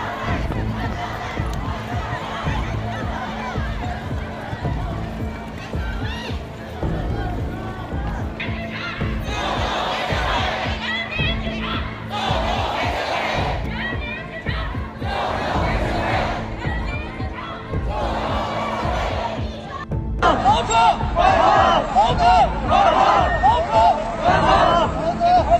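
A protesting crowd in China is broken up by police, with a constant roar of shouting and babbling voices, intermittent louder cries, and a sharper burst of yelling toward the end.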